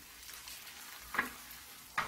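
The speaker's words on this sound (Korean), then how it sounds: "자, 이제 어느 정도 볶아진 것 같아요." Cup ramen fried rice stir-fries in a pan with a soft, steady sizzle, and two sharp utensil clicks against the pan stand out near the end.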